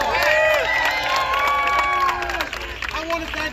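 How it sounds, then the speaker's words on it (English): Crowd applause and cheering at a New York supportive housing rally, clapping mixed with shouts and whoops from a lively audience, with raised voices calling out over it. "Let's give them a round of applause."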